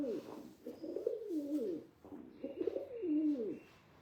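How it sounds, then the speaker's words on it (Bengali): Pet pigeons coo nearby in two soft, rolling phrases, low throaty calls rising and falling with a faint background hiss. "আমার কবুতরগুলো আসলে ওরা শুধু মামুনের কাছে আর আমার কাছেই থাকে"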